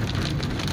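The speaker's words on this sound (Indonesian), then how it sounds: "karena hari ini hujan" Rain drums on a car on the Sitinjau Lauik road in West Sumatra: a dense, loud, continuous patter of drops on the bodywork, briefly and alone.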